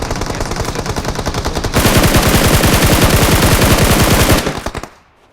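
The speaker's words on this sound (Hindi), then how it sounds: "टीममेट उसको फायर करने में लग जाते हैं" Loud, rapid video-game machine-gun fire rattles in a continuous stream, growing heavier midway, then cuts off abruptly into near silence.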